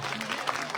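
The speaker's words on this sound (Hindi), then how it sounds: "इनके लिए तो जोरदार तालियां आनी चाहिए" A crowd applauds briefly and steadily at an outdoor village gathering for an open gym inauguration.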